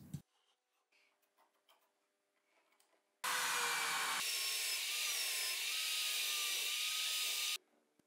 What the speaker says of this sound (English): I mark and drill on the wood all the holes to install the vise